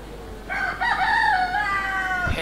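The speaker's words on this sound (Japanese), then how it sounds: "遠くで鶏の鳴き声が聞こえたり" A single rooster crows on Likiep Atoll in the Marshall Islands, one drawn-out cock-a-doodle-doo, fairly clear and not far off, alone without voices.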